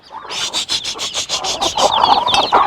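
Broody hens close by give a quick run of about ten harsh, rasping bursts in a steady rhythm, then settle into softer, wavering clucks and murmurs.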